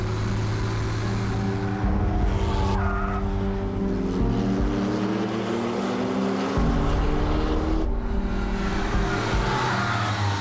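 W Motors Lykan hypercar driven hard, the engine howling loud and close through repeated gear shifts, revs climbing and dropping, with brief tire skids along the way.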